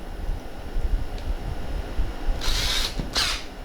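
A power drill spins with valve grinding compound on an airgun valve from an Air Venturi Avenger .25, a steady low whir with two brief louder high-pitched grinding bursts near the end.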